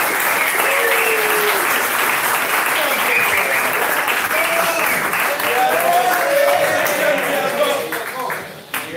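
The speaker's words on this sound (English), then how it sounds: "Big round of applause." Sustained audience applause at a tech meetup as a speaker is welcomed to the stage, dense and steady throughout before tapering off at the end, with faint voices underneath.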